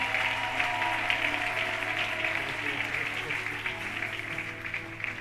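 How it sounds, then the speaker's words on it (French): A church congregation applauds and cheers loudly and steadily for the whole stretch, a dense wash of clapping with voices mixed in and a low hum underneath. "Est-ce qu'on peut acclamer très très fort le Seigneur?"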